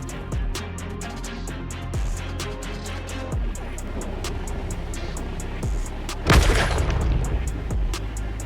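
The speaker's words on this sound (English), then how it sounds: "they do have a spell called Focus Strike where it bombards it with, looks like rockets to hit the ground" Rocket bombardment from the Focus Strike spell in Warhammer 3: a steady run of repeated booming impacts, ending in a louder burst of explosion and debris.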